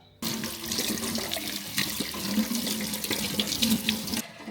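Water pouring and draining from a bowl of soaking peeled ginger in a kitchen, a steady splashing rush that starts abruptly and runs nearly five seconds before cutting off.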